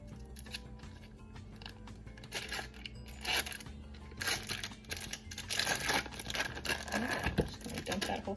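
Scissors snip and crinkle through a stubborn cream cheese package in a home kitchen, a run of close, sharp plastic cuts and rustles that grows busier toward the end.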